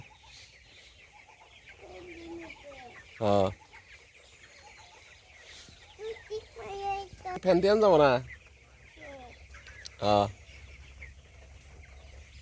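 Backyard poultry chickens cluck in several short, fairly close outbursts, with one louder flurry in the middle, while people talk nearby over a low background hum.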